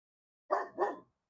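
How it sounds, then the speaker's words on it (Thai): A dog in a backyard vegetable garden gives two quick, close barks in a row, short and clear with silence around them. "เห็นบ่หมาเขามันเห่าเห็นบ่พี่น้อง"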